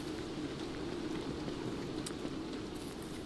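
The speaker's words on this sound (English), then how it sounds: "Okay, that was just a brief rain shower." Steady rain shower in the video game Don't Starve Together, a dense even hiss of falling drops that holds at a constant level throughout with no voices.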